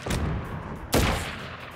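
Two close, sharp gunshots from combat in Crisis Core Final Fantasy VII, about a second apart, over a steady background of game noise.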